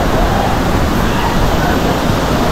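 Waterfall near Byndoor in Kundapura, a loud, dense roar of falling water that fills the whole moment steadily and close by, with no break.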